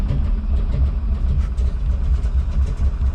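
A Rolls-Royce Springfield P1 engine runs just after a cold start, a loud, steady, low rumbling drone with a faint rhythmic pulsing and no voices.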